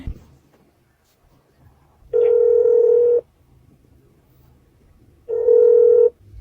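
Ringback tone on an unanswered phone call in Jamaica: two steady, clear tones, each about a second long, separated by a pause of a few seconds, with no talk over them.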